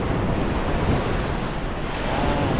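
Ocean waves washing onto the beach at Punta Cana, loud and close, a continuous roaring surf mixed with heavy wind buffeting the microphone.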